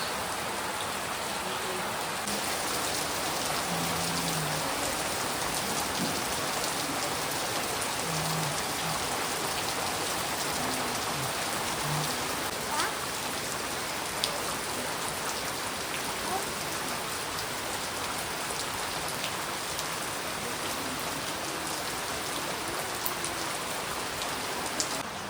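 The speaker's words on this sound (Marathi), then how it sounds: "किती सुंदर पाऊस आलाय" Heavy monsoon rain pours steadily in the Konkan region during the Ganpati festival, a dense, constant hiss of drops on surfaces lasting throughout at even loudness, with no voices.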